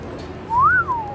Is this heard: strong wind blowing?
no